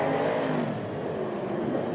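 Formula Drift car running the Irwindale course, a distant, steady engine roar and whir with no voices, sustained for the full moment.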